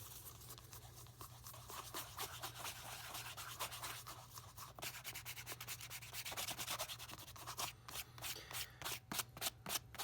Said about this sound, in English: I'm not like getting monster bits, I'm just dabbing, rubbing.